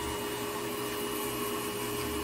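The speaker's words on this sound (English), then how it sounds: "I'm going to grind down a little bit here" A rotary tool grinds down a callus on a diabetic patient's foot, giving a steady, dense, high-pitched whirring buzz that is close and continuous throughout, with no talking.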